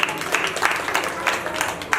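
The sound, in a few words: audience clapping at a jagran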